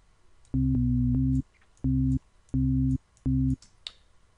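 Sine wave synth bass line from FL Studio: four loud, clean low tones in an offbeat rhythm, the first long and the rest shorter, with near silence between them.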